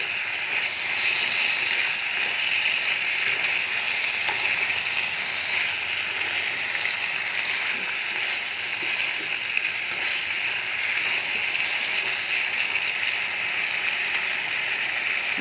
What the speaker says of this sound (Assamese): ডাঙৰ জুইত 10 মিনিট ভাজিম মছলাটো, চয়াবিন আৰু ৰাজমাখিনি ভিতৰত সোমাব।